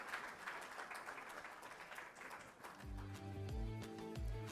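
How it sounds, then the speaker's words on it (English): Audience applause for Chef Zach at a conference plenary session, a steady wash of clapping from a crowd that continues as low tonal music joins partway through. "Can we have a big round of applause for Chef Zach?"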